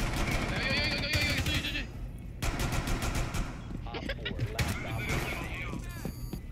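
Rapid bursts of gunfire from the video game Rainbow Six Siege, with clustered shots and short pauses between volleys. Excited player voices talk over the shooting.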